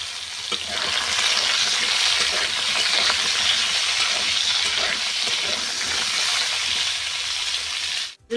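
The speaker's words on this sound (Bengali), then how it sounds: "পাঁচ ফোড়ন আর শুকনো লঙ্কা ফুটে এসেছে এর মধ্যে এই আলুগুলো দিয়ে দেব" Potatoes go into hot oil in a wok with crackling five-spice and dried red chillies, making a loud, steady sizzle and frying hiss up close that runs unbroken and then cuts off abruptly at the end.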